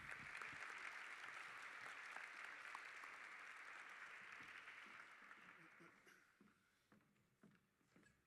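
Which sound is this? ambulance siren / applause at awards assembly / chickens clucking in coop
applause at awards assembly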